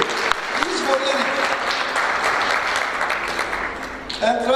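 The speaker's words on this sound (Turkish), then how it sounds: "ERİK'e de bu yüzden özellikle bir alkış rica ediyorum." Audience at a live Turkish broadcast event applauds a speaker, a broad continuous wash of many hands clapping at steady loudness, with a voice briefly audible over it near the end.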